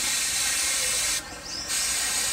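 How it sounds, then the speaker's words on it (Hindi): A spray bottle mists water over okra seeds in a container, giving a steady close hiss with one brief pause midway. "तो अब हम इसके ऊपर पानी लगा देंगे। पानी याद रखें हमेशा जो है वो फुहार की शक्ल में लगना चाहिए"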